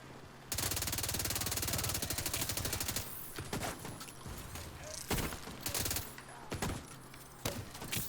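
Gunfire in the video game The Division 2: a long rapid automatic burst, then scattered heavy single shots and short volleys, loud and close, with no talk.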